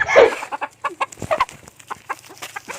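Native chickens cluck and squawk up close in quick, uneven bursts, one loud flustered cry at the start followed by a run of short clucks.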